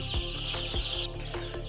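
Chickens clucking inside a poultry farm shed, a steady close chorus of short repeated clucks and calls over a constant low hum, with no talk.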